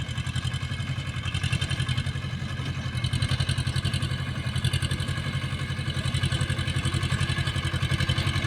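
A tractor fitted with a cutter runs through a chili field, its engine chugging in a steady, rapid rhythm at moderate distance with no voices.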